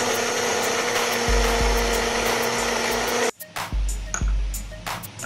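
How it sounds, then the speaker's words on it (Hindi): Kitchen grinder blending red chili garlic sauce with salt and white vinegar, a loud steady motor whir up close that cuts out, then restarts in short pulses. "और तो अब हम इसको ग्राइंड करेंगे।"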